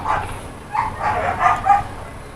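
Dogs on a farm bark and yip in a quick string of several barks, fairly close and clear, with faint low background noise.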